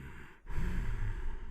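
Audible ujjayi breathing drawn from the back of the throat, a single close, steady hissing breath with a soft rasp, following a brief pause.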